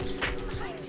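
Horses' hooves clop at a livery stable in the western film The Deadly Companions, a short run of hoofbeats close by under a voice.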